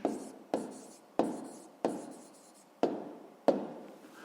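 Pencil strokes scratch across paper during a sixth-grade math exercise, six distinct bursts of writing, each starting sharply and trailing off, close and quiet with no talk.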